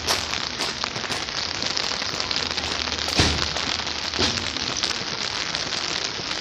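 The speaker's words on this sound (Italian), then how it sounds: "Fuori piove" Steady rain falls outdoors in a dense, even hiss of drops, with a couple of soft thumps partway through and no talking.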